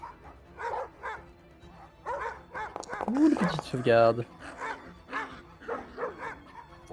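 A dog bark sound effect plays during a French Dungeons & Dragons vampire-hunt session, a short loud yelping burst under and between steady table talk.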